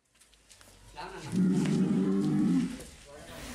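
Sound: cattle mooing at a livestock farm

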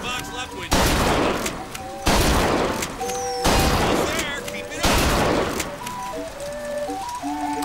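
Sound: gunfire in video game Bioshock Infinite

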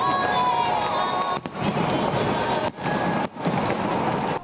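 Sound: New Year's Eve fireworks over Bucharest with crowd

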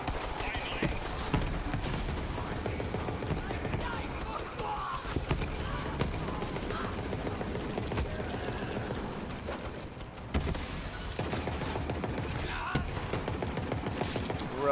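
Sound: gunfire in video game Borderlands 3

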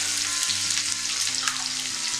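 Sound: frying onion, green chili and curry leaves for carrot rice

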